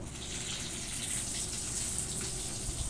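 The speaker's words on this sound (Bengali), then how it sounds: "ভাতও হয়ে গেছে ভাতটাকে গড় দেবো" Cooked rice is drained in a home kitchen, with water pouring out steadily in a soft, continuous splashing gush, fairly close and quiet, with no talk.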